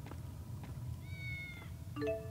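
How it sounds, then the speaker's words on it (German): Cat in the video game Tales of Xillia 2 gives two short meows, a drawn-out mew followed by a quicker second one, clear and alone against a low background hum. "Hier drin eine Katze, ich glaub's ja nicht, ey."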